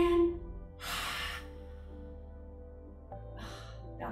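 A child-led kids' yoga session with a soft, drawn-in deep breath, followed by a quieter second breath sound against a faint background hum.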